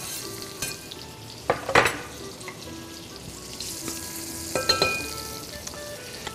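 Onions fry in hot oil with a continuous close sizzle, interrupted by two louder bursts of stirring and scraping in the pan.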